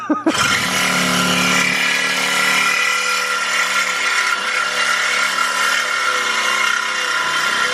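A power saw with a dull blade grinding through a stainless steel muffler pipe on a K24-swapped EK sedan, a loud continuous harsh whine that starts abruptly and holds steady throughout.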